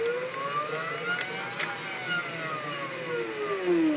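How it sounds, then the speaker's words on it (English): A Daedal linear stage moves under a step motor driver at high acceleration. The motor gives a rising then falling whine as it speeds up and slows down, with two brief clicks in the middle, and the sound is fairly faint and even. "See the step of the motor."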